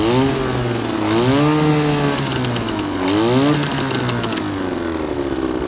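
A 1954 Johnson 5-1/2 outboard motor, unrun for decades, running steadily and close with a loud, buzzy, rasping tone that rises and falls in pitch as it revs up and down twice.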